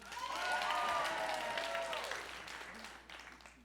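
Audience applause in a theatre hall at a college talent show, a dense burst of clapping with some cheering that holds steady, then tapers off near the end.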